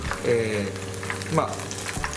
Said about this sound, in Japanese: 油 の中に衣を入れて、鍋の底につぐかつかない かぐらいですぐパッと上がってくるぐらい